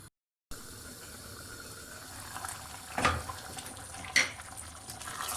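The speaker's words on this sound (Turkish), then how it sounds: "Kapağını kapatıp pişmeye bırakıyorum." Two brief metallic clinks of a lid settling onto a pot of cooking potato soup, against a quiet kitchen background hum.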